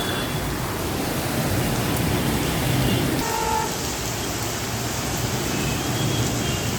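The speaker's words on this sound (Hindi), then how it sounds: "बैकग्राउंड साउंड से पता चल रहा होगा कितनी तेज बारिश आ रही है" Dense, steady hiss of heavy rain pouring down, a continuous wash of noise with no pauses, and faint traffic sounds underneath.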